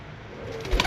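A pigeon, a well-mannered breeder bird, gives one short soft coo near its end, low and close, over faint background noise.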